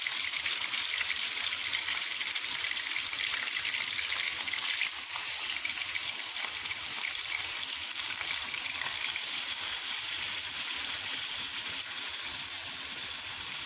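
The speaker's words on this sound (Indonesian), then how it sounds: "Jadi ini enggak sepenuhnya digoreng ya, hanya dipensir aja, seperti ditumis sebentar." 500 grams of chicken pieces sear and sizzle in a hot pan, a steady, dense frying hiss with faint crackles running unbroken throughout, close and fairly quiet with no voices.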